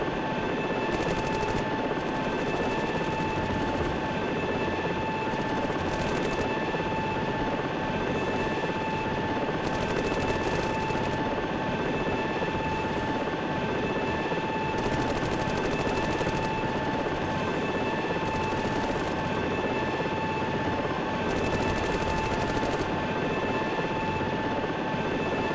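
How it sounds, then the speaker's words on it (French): Video game helicopter with its door open and the automatic door gun active, heard as a loud steady rotor and engine drone with faint bursts of gunfire running throughout. "Je vais ouvrir la porte et activer le mitrailleur automatique, des fois qu'il puisse aider les soldats au sol."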